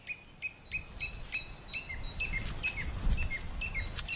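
Small birds call repeatedly in a natural setting, a run of short, bright chirps and tweets in a steady rhythm, fairly close and clear over a faint outdoor background.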